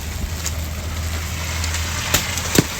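A vehicle engine rumbling steadily on a snowy road in Japan, a low continuous drone with a couple of short sharp knocks near the end, no talking.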